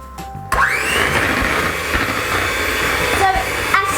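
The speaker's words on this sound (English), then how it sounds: "Now we fix the blender, we can start blending." Electric blender whirring through Oreo cake batter in a home kitchen, starting abruptly and running as a loud, steady close-up drone with slight pitch shifts as the mix thickens.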